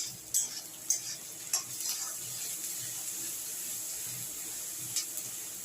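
Onions sprinkled with salt fry in a pan for masoor dal, giving a steady soft sizzle with a few sharp utensil taps and scrapes of stirring close by.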